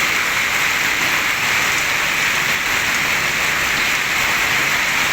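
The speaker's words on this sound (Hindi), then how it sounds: "शदीद बारिश हो रही है, शदीद किस्म की।" Heavy stormy rain pours down steadily in Bahria Town, Rawalpindi, a dense, constant hiss of water falling hard and close with no pauses or voices.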